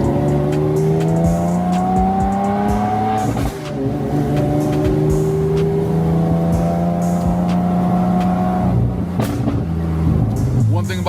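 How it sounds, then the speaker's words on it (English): A loud, rough car engine drones and climbs in pitch through the gears, with a brief drop between pulls and a harsh mechanical rattle. "About this car, it is miserable. It just makes all kind of noise."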